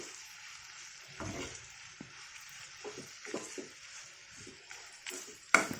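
Green chillies frying in oil in a pan for a gooseberry and green chilli chutney, a soft steady sizzle with occasional stirring scrapes and a sharp clack near the end, no talk.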